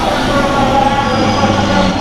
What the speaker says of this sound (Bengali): আসানসোল আদ্রা মেমু।